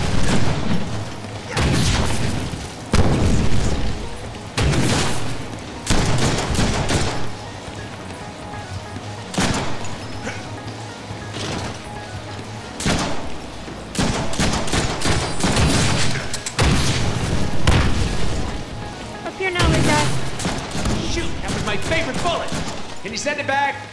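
Deadpool video game combat: dense rapid gunfire and booming explosions fill the whole stretch, loud and continuous with heavy bursts, layered under game character voices.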